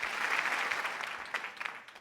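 At a high school theatre awards night, a crowd breaks into applause, a dense, fairly distant wash of clapping that swells early and thins out over two seconds.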